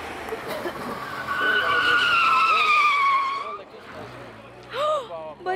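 A Lexus IS250 with traction control off skids into a corner on a race track, its tires squealing loudly in long wavering howls over engine noise before a second shorter squeal.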